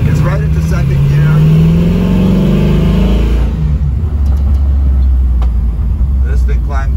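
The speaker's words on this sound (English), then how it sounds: "This thing climbed up to that 65 and way quicker than I expected" A 1967 Camaro restomod with an LS swap engine accelerates up to highway speed, its loud engine rising in pitch through a gear before settling into a deep road rumble, with a person talking over it.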